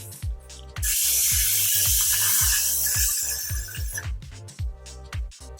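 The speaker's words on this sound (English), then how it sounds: "I'm just going to spray with my Got2b Blasting Freeze Spray." A long, loud hiss of Got2b Blasting Freeze Spray from an aerosol can, sprayed close by onto a wig for a few seconds, with clicks and brief shorter bursts after.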